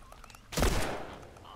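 A single loud gunshot in The Last of Us, a sharp close blast that rings out briefly after a quiet stretch with faint background sound.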